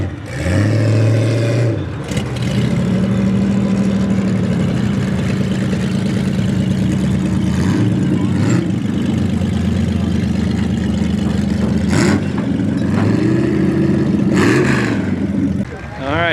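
Demolition derby trucks at the Ottawa County Derby idle and rev nearby, a steady loud engine drone rising into several revving surges, with crowd chatter and voices mixed in underneath.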